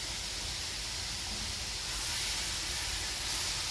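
Steady sizzling hiss of cabbage and chicken frying in a pan, continuous and fairly quiet, with no voices.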